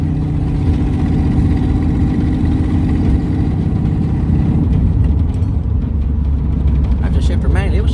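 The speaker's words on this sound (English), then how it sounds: "we are rolling down the road." A 1969 Ford Mustang that sat rained in for 21 years, driving down the road in third gear with a steady, loud engine drone and road rumble filling the cabin.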